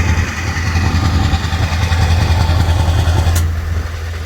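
At a Scottish truck show, a truck engine rumbles with its exhaust unsilenced, a loud, deep and steady throbbing roar close by that eases slightly toward the end.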